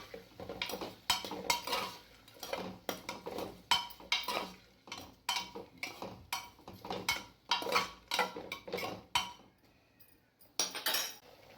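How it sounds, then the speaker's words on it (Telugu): Peeled, cut potatoes tumble into a cooking pan one handful at a time, with repeated clattering knocks and metallic clinks from a spoon against the pan at an uneven rhythm, close and fairly quiet. "మంచిగా క్లీన్ చేసుకొని పొట్టు తీసి కట్ చేసి పెట్టుకున్న ఆలుగడ్డలు వేస్తున్నా."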